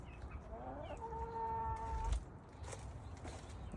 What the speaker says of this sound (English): Total of 12 chickens.